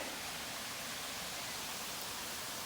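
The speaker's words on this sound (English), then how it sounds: "So there's a small waterfall up there with Ryan and Shaylee." A small waterfall pours steadily in the open air, its broad, even rush of water filling the whole clip as a constant hiss with no voices over it.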